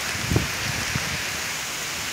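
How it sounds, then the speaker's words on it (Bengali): Steady rain falls in Konabari, Gazipur, in a constant, even hiss, with a few soft drops and patters standing out near the start. "সারাদিনই গেল বৃষ্টি, মনে হচ্ছে সারা রাত যাবে বৃষ্টি।"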